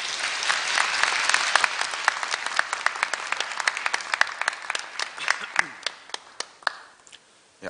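Audience applause fills a university degree-conferral ceremony hall, dense and sustained at first, then thinning into scattered individual claps that fade toward the end.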